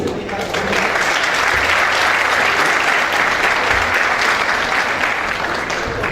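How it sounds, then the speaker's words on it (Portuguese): Warm, sustained applause from a conference audience welcoming a panel moderator to the stage, a dense steady wash of many hands clapping that carries on for several seconds. "pedindo uma calorosa salva de palmas ao nosso moderador deste painel, Charles Carneiro"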